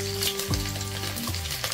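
Garlic cloves, cumin and urad dal sizzle in hot oil, with a steady close crackle and spatter punctuated by a few clinks and stirring scrapes.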